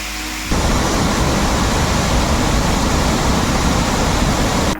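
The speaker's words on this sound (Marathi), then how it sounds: "पावसाळ्यात रंदा धबधबा आणखीनच रौद्र रूप धारण करतो" Randha waterfall near Bhandardara, swollen by monsoon rain, thunders as a loud, continuous broadband roar that fills the whole clip without a break.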